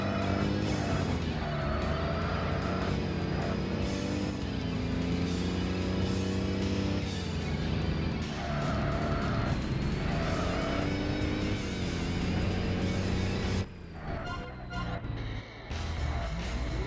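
A Porsche engine droning steadily in the Tokyo Xtreme Racer: Zero street racing game, its pitch rising and falling through gear changes before the roar suddenly drops away near the end.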